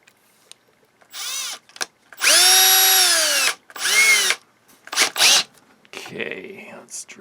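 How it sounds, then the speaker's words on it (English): A power drill fitted with a bent 1.8 mm bit bores a hole while a Realtone 2437 AM/FM/SW radio is being repaired. Several short, whining bursts start and stop, the longest lasting about a second, separated by quiet pauses. "let's drill a hole."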